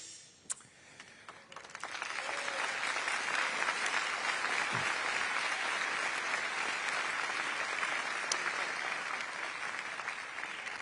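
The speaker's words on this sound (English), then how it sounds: "When I pause, it's because they're clapping" Applause from a business forum audience swells after a couple of seconds into sustained, dense clapping that holds steady and fairly loud to the end.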